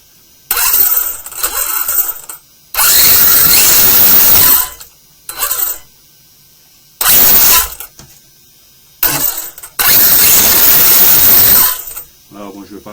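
A DF7 RC car's electric motor, fitted with an added cooling fan on a rigid rear axle, whirs and ratchets in loud bursts separated by silent pauses.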